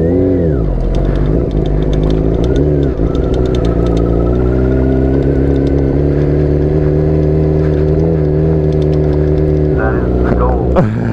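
Ford Mustang GT with a 5-liter engine runs loud and close, holding a deep, steady drone that climbs in pitch with revs early on and again near the end.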